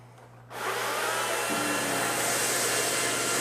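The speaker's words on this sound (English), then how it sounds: "And right now I'm just pre-scrubbing this floor." A 360i hard surface tile and grout brush head switches on to pre-scrub a floor, jumping from quiet to a loud steady motorized whir with a broad hissing roar that holds constant.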